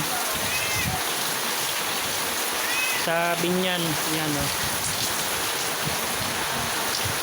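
Heavy rain pours down steadily in Cavite, a loud, unbroken hiss of water falling on surfaces, while a voice speaks briefly in the middle.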